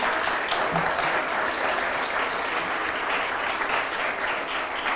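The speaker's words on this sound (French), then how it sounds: "je vous rappelle que oui, vous pouvez les applaudir, donc merci à vous trois" An audience applauds three speakers: sustained, evenly textured clapping from a sizeable crowd, heard at moderate distance and holding steady for the full span without any talk.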